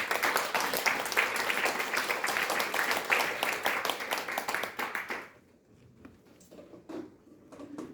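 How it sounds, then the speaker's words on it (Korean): Steady, dense applause from a crowd at a North Korean human rights forum claps for several seconds, then abruptly dies away into a quiet room with faint rustling. "큰 박수로 환영해 주시면 감사하겠습니다."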